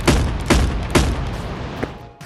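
Gunfire in the video game Animal Company, three loud shots spaced about half a second apart, each with a booming tail, followed by a softer fourth crack.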